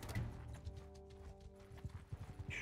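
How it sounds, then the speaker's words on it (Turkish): A donkey in the Mount & Blade II video game makes soft, uneven hoof clopping over a steady humming game ambience, at low volume with no talk. "Şu eşeğe bak lan."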